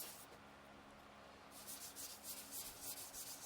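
A paper towel rubs Triple E Ultra Shine onto a turned hickory wattle bowl, a soft close scrubbing hiss that turns into quick, rhythmic, louder strokes partway through.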